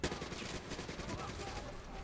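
Rapid automatic gunfire in the video game Call of Duty Black Ops 3 during a campaign mission, a dense, continuous rattle of shots lasting the whole stretch at moderate loudness.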